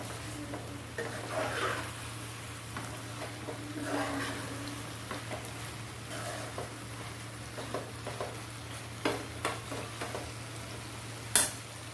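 Pasta simmering in a pan and being stirred, with soft bubbling and scattered scrapes and clinks of a utensil against the pan over a steady low hum, growing more distinct near the end.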